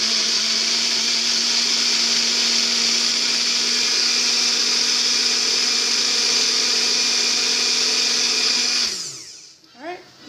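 A hand blender whirs steadily through hot homemade spaghetti sauce with a loud, even motor drone that winds down and stops near the end, followed by a few faint clatters.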